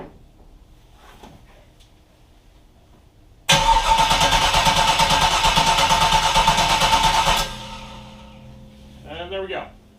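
A V8 engine swapped into a Datsun 720 pickup cranks in one loud, steady burst of about four seconds after a quiet stretch, then drops to a low idle-like hum with a short rattle near the end.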